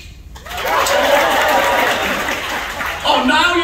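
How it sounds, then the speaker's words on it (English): An audience at a comedy magic show on a Norwegian Breakaway cruise ship breaks into a burst of close, steady clapping that lasts a few seconds and swells again near the end. "Oh, now you're clapping!"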